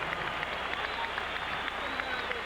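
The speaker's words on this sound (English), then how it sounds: "Let's have a round of applause for these two heavyweights." Crowd applause at a heavyweight boxing match in an Atlantic City casino arena after a twelve-round fight: sustained, fairly faint clapping from a large distant audience, with a murmur of voices underneath.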